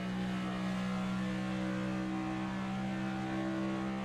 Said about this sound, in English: You can hear some of that wall reverberation again.